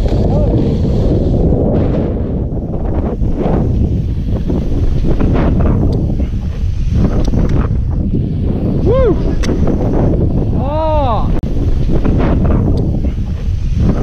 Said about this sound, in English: Super windy.